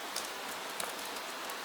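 Gentle rain on a night in Venice, a soft, quiet patter with a few faint drops standing out now and then, no voices.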